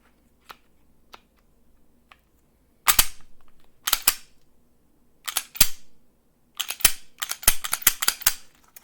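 Metallic clicks and snaps of a Taurus G3 pistol slide being lined up and pushed back onto its frame: a few faint ticks, then sharp close clacks in bursts, ending in a quick rattling series of clicks.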